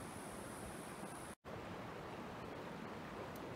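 Creek water rushes steadily around someone standing in the stream channel, a broad, even wash of flowing water that is quiet and continuous, with a brief dropout and no speech.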